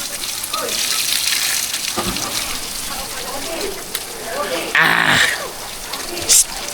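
Spring water pours from a mountainside source near a river on Mt. Banahaw, a steady close gush running the whole time with brief louder splashes and bursts, and people talking over it.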